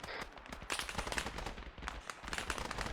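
Military video game firefight with rapid crackling gunfire, overlapping automatic bursts and single shots at close to mid distance, dense and continuous over a rumbling low background, no voices.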